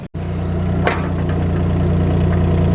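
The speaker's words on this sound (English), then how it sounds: "I was scraping some of the topsoil away with this skid steer over there." Skid steer engine idling on a farm while topsoil is scraped, a close, loud, steady low rumble with a faint vibrating throb and a brief knock near the start.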